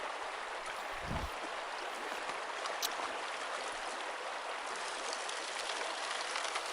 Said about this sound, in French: Le rinçage en premier, enfin premier rinçage au grossier.